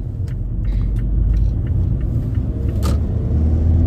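Car moving through slow traffic, heard from inside as a close, steady low rumble with small clicks and bumps scattered over it.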